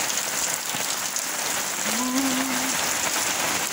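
Heavy rain pours in Malda town, a dense, steady hiss of drops striking surfaces close by, continuous throughout with a brief faint tone rising partway through and no talking.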